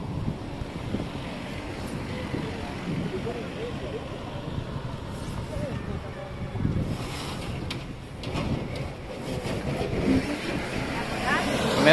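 Motorboat ride on the water in Verona, a steady low engine rumble and rushing water with wind buffeting the microphone, continuous throughout, with voices talking over it.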